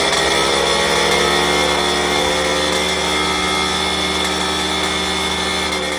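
A small engine with a freshly replaced exhaust pot and a cleaned tank, carburettor and jet idles steadily up close, loud and continuous with a droning buzz and a faint irregular stumble, and nobody speaks.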